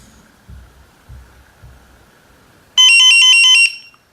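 An ISDT BG-8S battery checker sounds its low-voltage alarm as load is applied to a cell: a loud, steady electronic beeping tone for under a second, following a few soft low thumps.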